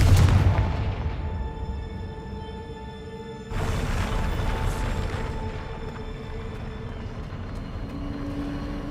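A Confringo fire spell bursts in Hogwarts Legacy, a sudden loud blast at about three and a half seconds rising over a rumbling game background, then a sustained roar trailing off with no talk.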